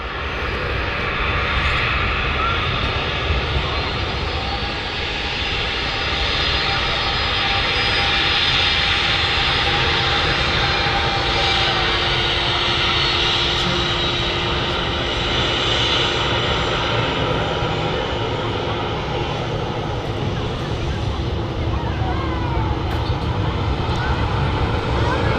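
An airliner taxiing at Manchester Airport onto the Alpha taxiway toward the gate, a loud, steady jet engine roar and whine that holds throughout, close by, with faint background sounds.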